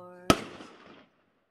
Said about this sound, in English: He is the one playing only these fireworks.